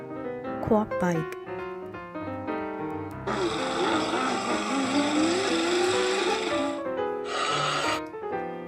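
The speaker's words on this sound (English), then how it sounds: "Quad bike." A quad bike engine hums and revs steadily with a harmonic drone that rises in pitch, preceded by brief musical tones, loud and continuous throughout.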